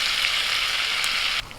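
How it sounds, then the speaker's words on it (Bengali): Cumin seeds crackle in a wok of hot white oil and butter, a loud, dense, even hiss that holds steady and then drops abruptly to a quieter sizzle near the end. "সামান্য জিরে ফোড়ন দিচ্ছি"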